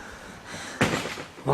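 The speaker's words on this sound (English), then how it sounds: "That was the gate." A single dull slam of a gate in the distance at a heritage centre in Gower, Wales, followed by a second softer knock, against a quiet outdoor background.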